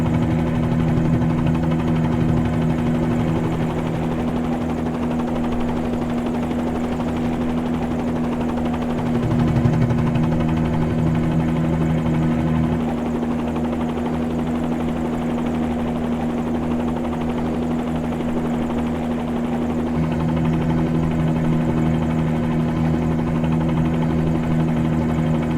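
Helicopter in Microsoft Flight Simulator 2020 lifting off and flying, a steady loud rotor and turbine drone with a constant low hum throughout, unbroken and without voices.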